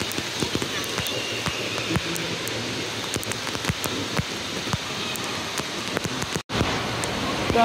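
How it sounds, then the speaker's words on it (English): Steady rain patters and drips onto nearby surfaces at an outdoor waterpark area, with scattered sharper drops tapping over a constant hiss; a brief voice or two can be heard. "You're getting rained on."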